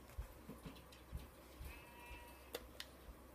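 Sheep bleats in the Minecraft video game on PS3, a few short, quiet calls over a low background, with some light clicks and tones from play.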